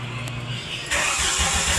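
A Jeep engine with a newly replaced crankshaft position sensor cranks briefly, then catches and starts. It settles into a loud, close, rumbling idle.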